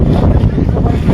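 Loud, continuous wind gusting hard against the microphone on a cloudy, breezy day near the sea by Cox's Bazar, a dense low roar with faint crowd noise underneath.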